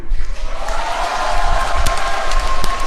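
Audience at a New Year citizens' meeting with Seongnam's mayor applauding and murmuring, a steady dense crowd noise in a large hall with a few sharper claps standing out.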